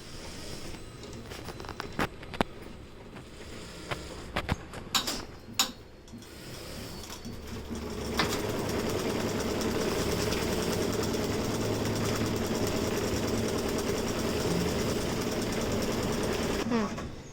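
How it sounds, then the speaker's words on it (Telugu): A tailoring sewing machine in a shop switches on and runs steadily, a continuous mechanical whir and patter that starts after a few scattered clicks and handling knocks, loud and close for the rest of the clip. "ఇప్పుడైతే మిషన్ ఆన్ చేస్తున్నాను"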